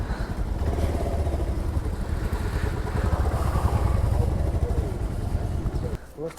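A motorcycle engine rumbles close by with rising and falling revs while being parked in Ladakh, then cuts off near the end, leaving a moment of clatter.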